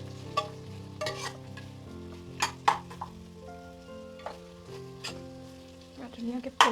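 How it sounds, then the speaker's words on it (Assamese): Mutton curry sizzles loudly in the pan after the lid comes off, crackling frying mixed with several spoon knocks and stirring scrapes, close by. "2-3 মিনিটৰ পিছত ঢাকনিখন খুলি আকৌ লৰাই দিলোঁ"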